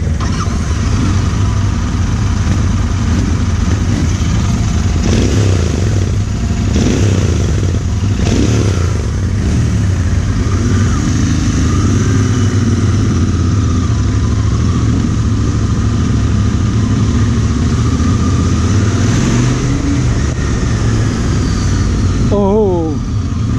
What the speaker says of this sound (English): let's launch the engine